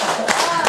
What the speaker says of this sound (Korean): 야, 이건 박수 쳐야 된다